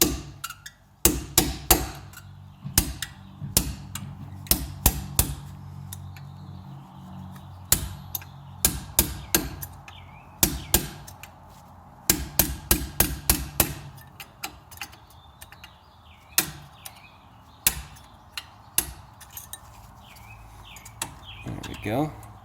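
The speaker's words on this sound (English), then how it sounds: "take your drift and your little ball peen hammer here and just give it a little tap-tap-a-roo" Sharp metallic ball peen hammer taps on a drift ring out close by, in quick clusters and scattered single strikes, with long pauses between bursts, while removing 2016 Mustang GT Brembo brake pads.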